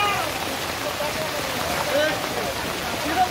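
Flood water rushes steadily through drainage in a residential area of Pune, a continuous broadband hiss and gurgle at fairly loud level.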